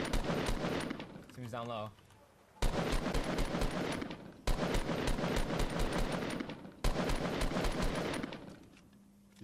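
Video game gunfire in Fortnite, with loud sustained bursts of automatic fire broken by short pauses and a brief spoken line partway through.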